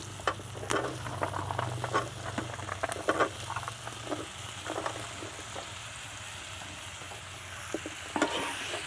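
Steady crackling and sizzling of ash gourd and jackfruit seeds frying in a pan, with scattered sharp pops and stirring clicks, close by and moderately quiet.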